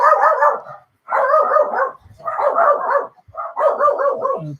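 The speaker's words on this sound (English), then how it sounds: "Apologies for the dog." A dog barks indoors in four loud bursts of rapid, repeated barks separated by short pauses, close and clear with no talk over it.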